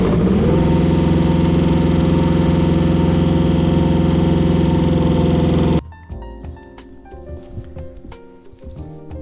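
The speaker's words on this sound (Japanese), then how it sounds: "ユンボエンジンかけていきますよ" A mini excavator's small diesel engine starts and roars loudly and steadily nearby for several seconds, then the sound cuts away to quieter, uneven rumbling.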